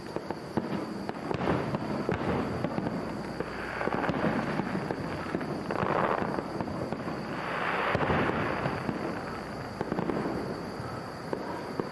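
New Year's Eve fireworks going off outdoors down the end of a residential block, a steady crackling barrage of pops and bursts at middle distance that keeps going throughout with no pauses.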